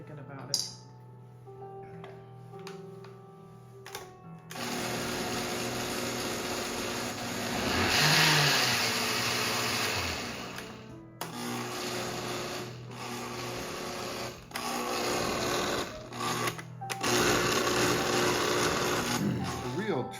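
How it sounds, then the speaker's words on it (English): A kitchen blender whirs loudly as it purées dried chili skins for beef birria, running in long bursts with pauses, with voices talking around it. "we really want to get all those chili skins blended up"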